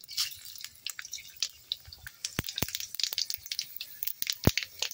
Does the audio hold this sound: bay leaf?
yes